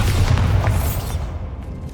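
Bombarda spell explosion in Hogwarts Legacy, a deep booming blast with a rumbling low-end tail that fades over a second or two.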